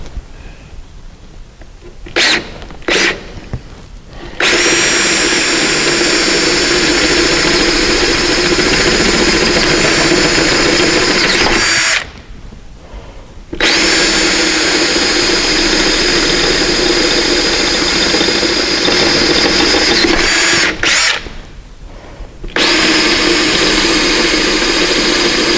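A drill opens three holes in a car's steel cross member out to 10.5 mm for riv nuts, part of a rally sump and steering guard fitment. The motor runs loud and steady for long stretches, broken by brief pauses between holes, with no talking.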